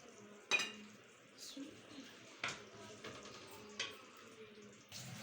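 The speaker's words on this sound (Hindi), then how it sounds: "अब माँ जी इसको डिश आउट करने लगी हैं।" Cooked spinach is served out of a pot with a spoon, giving several sharp clinks and scrapes of metal on cookware at irregular intervals, quiet and close, with some talking in the background.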